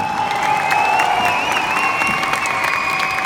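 A large audience applauding at a live Punjabi concert at Wembley Arena, a loud, dense roar of clapping with crowd noise and scattered cheers, while sustained tones ring through above it.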